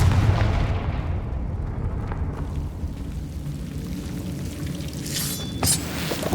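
Confringo fire spell blast in the Hogwarts Legacy video game: a loud booming explosion at the start that decays into a rumbling tail, with a brief crackle later, no talking.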